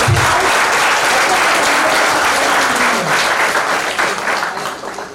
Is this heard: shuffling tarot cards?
no